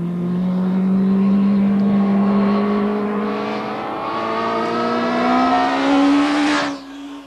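A vintage motorcycle engine runs loud and close, its tone climbing slowly as it revs up and pulls away, then cutting off sharply near the end, with no talking over it.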